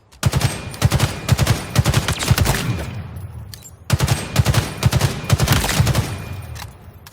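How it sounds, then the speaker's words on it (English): Battle rifle in Halo Infinite firing precise three-round bursts, loud, sharp shots in quick rhythmic clusters, with a brief pause before a second string of bursts. "You pull the trigger to fire a precise 3-round burst"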